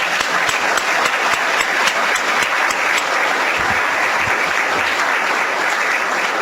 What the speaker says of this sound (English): all the students deserve a round of applause for amazing work